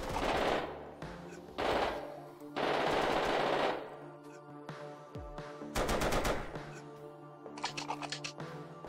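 Bursts of automatic machine gun fire in GoldenEye 007 on the N64 come in several rapid strings separated by short pauses, with clicks and other game effects between them and no voices.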